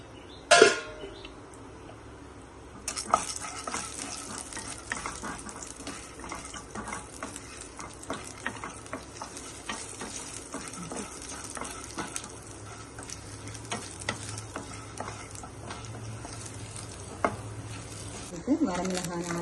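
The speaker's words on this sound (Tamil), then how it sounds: "எண்ணெய் சூடானதுக்கப்புறம் உளுந்தம்பருப்பு அண்ட் கடலைப்பருப்பு." Urad dal and chana dal fry in hot oil for a spinach-free moringa thogayal base, a steady low sizzle running throughout with occasional stirring clatter and a sharper crackle at the start and near the end.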